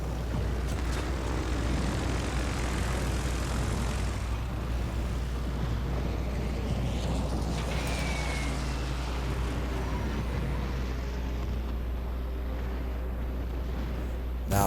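Carrier planes flying overhead in the naval video game World of Warships Legends, a continuous loud propeller-engine drone with a low rumble that holds steady throughout, with a faint passing whine partway through.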